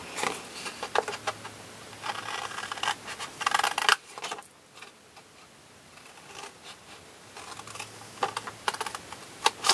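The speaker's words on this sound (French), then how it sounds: "Donc, je coupe d'un côté, de l'autre." Scissors cutting paper for a papercraft lidded box, crisp snipping and rustling in close bursts, with a quieter pause midway before the cutting resumes.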